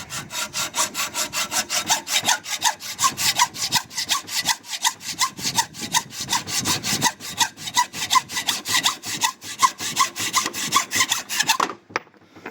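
A Subaru Impreza metal camshaft gear being sawn through by hand, a rapid, steady rhythm of harsh rasping back-and-forth strokes that continues closely for several seconds before stopping abruptly.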